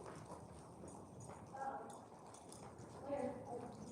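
A horse's hooves clip-clopping in a steady walking rhythm, faint and distant, with a person talking quietly over it and a light clink now and then.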